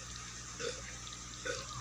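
Water flowing steadily through a channel down to okra plants set among rocks, a soft continuous trickle with two brief splashy surges, no speech.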